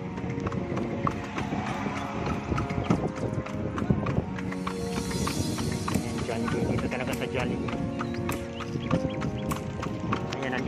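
A horse's hooves clip-clop steadily on pavement as it pulls a kalesa carriage around Luneta Park in Manila, a dense, continuous clatter under a busy outdoor wash of street noise.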